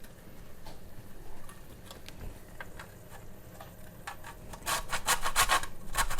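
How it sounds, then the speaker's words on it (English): Nutmeg rubbed against the small holes of a kitchen grater for beef lasagne, giving soft scraping strokes that grow louder and quicker near the end, close and with no talk. "I'm going to use the small holes of the grater, okay, not the big ones, and I'm going to grate in"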